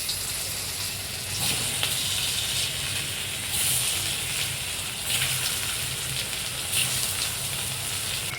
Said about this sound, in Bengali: আলুটা ভালো করে লাল করে ভেজে নেব।